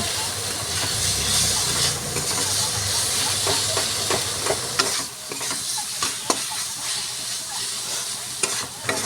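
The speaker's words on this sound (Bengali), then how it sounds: "মশলাগুলো একটু ভাজা ভাজা করে নেওয়ার পর সামান্য জল দিয়ে কিছুক্ষণ ঢাকা দিয়ে মশলাগুলোকে ভালো করে কষিয়ে নেব।" Ground cumin and coriander fry and get stirred in a pan for chickpea ghugni, a continuous sizzling hiss broken by repeated scraping clicks of the spoon, close and fairly loud.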